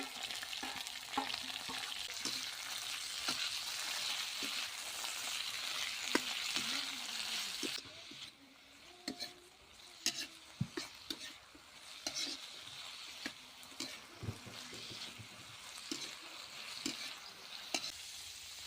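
Golden beans fry in hot oil with a close, continuous sizzle at first. It then drops to a quieter crackle broken by scattered clicks and scrapes from stirring, with no talking.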